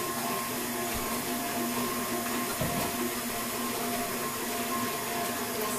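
Electric mixer beating butter and milk into red devil's food cake batter, a steady whirring motor drone with a brief knock midway, running alone without talk.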